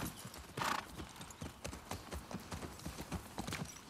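A horse in The Last of Us Part II, with hooves clip-clopping in a quick, even rhythm close by for a few seconds and a brief whinny near the start.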